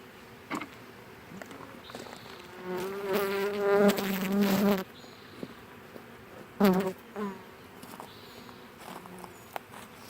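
A honeybee swarm being hived gives off a dense, rising insect buzz. It swells loudly for a couple of seconds, breaks off, and returns in a shorter burst over a quieter background hum.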